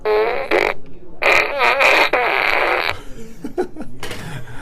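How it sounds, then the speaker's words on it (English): A novelty fart blaster gadget lets out a series of loud, buzzy, sputtering fart noises in several bursts separated by short pauses, close to the microphone. "I use this one when I get done with a bad phone call as my fart blaster."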